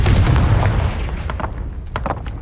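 A Confringo fire spell explodes in Hogwarts Legacy, giving a loud, deep boom that rumbles and fades, followed by a few sharp cracking bursts of debris.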